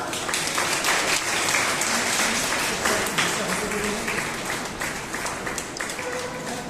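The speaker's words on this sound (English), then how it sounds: "Please applaud everyone" An audience at a school's annual Founder's and Parents' Day celebration gives sustained applause, a thick, even roar of many hands clapping for several seconds.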